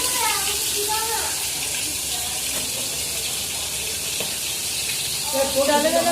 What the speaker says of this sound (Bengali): এরপর একা একে মাছগুলো আমি ভেজে নেবো